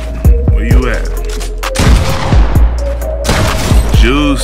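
Repeated gunshots in the video game Fortnite during an Xbox build battle, sharp loud cracks in bursts of two or three with short gaps, mixed with game effects and a brief tonal sweep, no talk over them.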